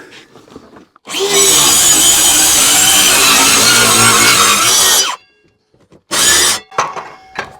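A power saw rips through plywood in one long, loud, steady cut lasting about four seconds, followed by a shorter second burst of cutting.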